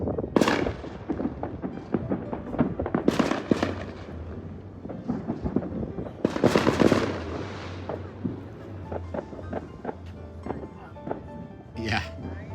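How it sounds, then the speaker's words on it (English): Repeated booming fireworks bursts echo at a distance, some sharp cracks among them, with people talking throughout. "Citizens fireworks going off."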